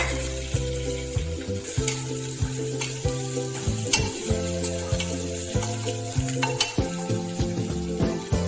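Cumin, curry leaves and ginger-garlic paste hit hot oil with mustard seeds for a spiced masale bhat, giving a steady, close sizzle with stirring over a melodic background throughout.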